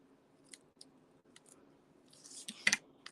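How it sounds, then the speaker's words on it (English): Scissors snip through folded natural gilded specialty paper, a few soft handling rustles leading into a brief sharper crisp cut near the end, close and quiet. "all I'm going to do is just fold this in half and cut it."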